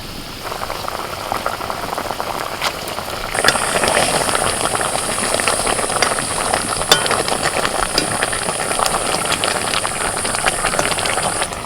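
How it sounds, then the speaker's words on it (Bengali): Turmeric curry bubbles at a rolling boil as fish go into the pot, a dense hissing, gurgling simmer that grows louder partway through, close and steady, with no talk. "হলুদ গুঁড়ো ওই তো ফুটে গেছে এবার মাছগুলো দিয়ে দিই"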